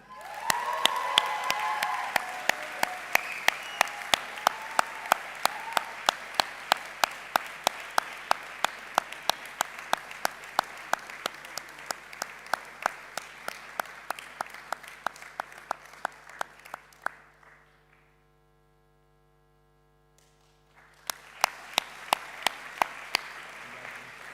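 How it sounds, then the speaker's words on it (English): Audience applause at a graduation ceremony honoring special award recipients, a dense steady clapping that swells, then fades into near silence before a second burst of applause returns near the end. "Can we please have another round of applause for all of our special award recipients?"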